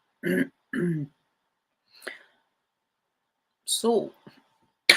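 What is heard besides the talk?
cough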